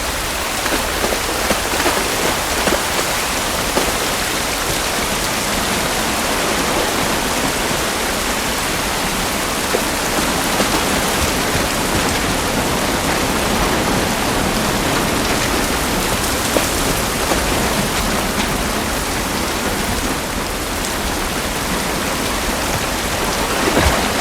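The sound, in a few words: rain falling, video game The Last of Us Part I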